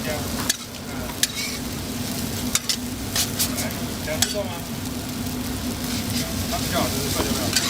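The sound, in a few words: spatulas scraping a wok as ingredients sizzle at Taiwanese street stall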